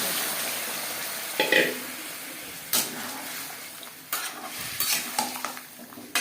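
A spoon scrapes and stirs boiled mutton and fried potatoes in a pan with a light sizzle, in several uneven strokes with occasional metallic clinks, close by.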